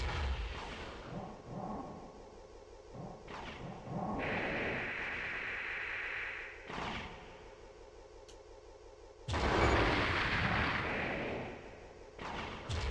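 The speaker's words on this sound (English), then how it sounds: "What's firing at me?" Heavy weapons fire booms in bursts from mech combat in Armored Core on the PS1, with a sustained roar around four to seven seconds and a loud blast near nine seconds, fairly close and without talk.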